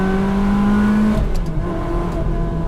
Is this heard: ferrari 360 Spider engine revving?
yes